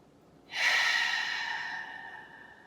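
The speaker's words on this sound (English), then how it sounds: "Let's take a deep inhale through the nose" A deep breath drawn in through the nose during a guided breathing exercise, a single close, airy inhale that swells quickly and then eases off slowly over about two seconds.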